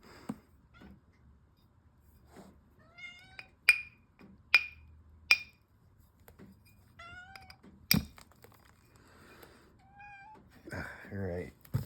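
An indoor kitten running around a house gives a series of short, high, rising meows, some sharp and close, scattered between stretches of relaxed conversation nearby.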